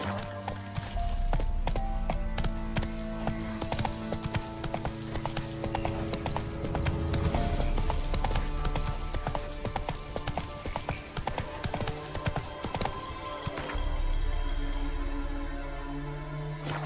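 Roach the horse galloping in The Witcher game, with rapid rhythmic clip-clop hoofbeats running continuously under music and ambient game sound, plus an occasional whinny.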